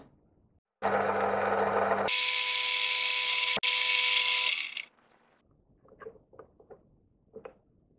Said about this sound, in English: I think now sanding this down a little bit will be okay.